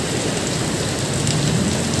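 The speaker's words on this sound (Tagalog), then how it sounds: "biglang bumuhos ang malakas na ulan" Heavy rain pouring down in a dense, continuous roar, close and loud, with no voices.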